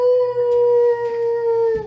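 A voice imitates a troll creature's howl: one long, steady, sustained tone held for nearly two seconds, alone and fairly loud, before cutting off.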